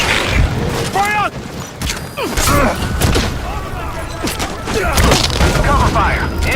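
Gunfire and explosions in the video game Metal Gear Solid V, repeated booming blasts and sharp cracks in irregular bursts mixed with shouted voices and radio chatter, loud and dense throughout.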